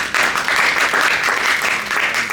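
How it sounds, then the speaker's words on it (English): Dense audience applause greets presenters Jeff and Tiffany as they are introduced at a City of Glendora community event, a steady loud wash of many hands clapping throughout, with no talk over it. "Let's give them a warm round of applause."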